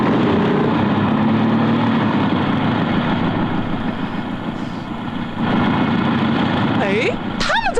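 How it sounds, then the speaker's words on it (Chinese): Cartoon hovercraft motorcycle engines in the classic Black Cat Detective animation, a loud steady mechanical drone throughout, joined by rising whistling swoops near the end, with speech over parts. "使用气垫摩托。"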